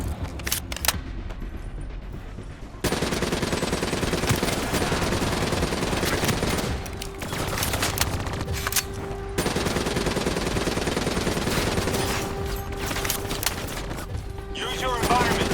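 Gunfire from Call of Duty Black Ops III, with loud bursts of automatic fire and single shots in dense, sustained volleys, mixed with explosions, mechanical game effects and an intermittent voice.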